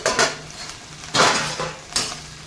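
Metal lid clattering against a pan while cooking pointed gourd, three separate clanks and scrapes with quiet pauses between them.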